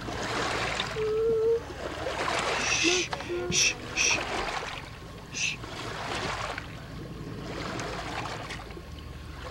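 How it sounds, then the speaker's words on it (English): Gentle waves wash and slosh continuously at low volume, with a few faint voices and brief squeaks scattered over the water. "Listen to the waves."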